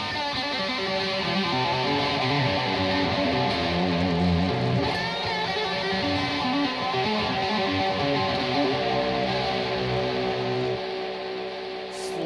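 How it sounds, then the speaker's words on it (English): A heavily distorted electric guitar plays a lick shifted to higher positions on the neck, steady and loud, with continuous overlapping notes and no talking throughout. "Like I said, you can use it all over the neck."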